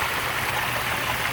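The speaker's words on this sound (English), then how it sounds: "We have water flowing across the side here" Water runs through a small hand-built pond canal, a steady close rushing and trickling wash with no breaks and no voices.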